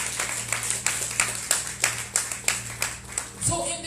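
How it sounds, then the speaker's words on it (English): Church congregation clapping at a thanksgiving service: about a dozen regular, fairly loud hand claps in a steady rhythm over a low background hum, with a voice starting at the end. "Somebody clap for Jesus."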